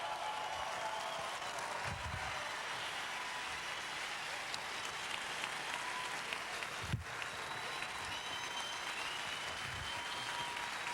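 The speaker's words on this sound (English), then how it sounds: "ACN deserves a resounding round of applause" An audience at a business seminar gives a resounding round of applause, a steady dense patter of many hands held at a fairly faint, distant level for the whole stretch, with no voices on top.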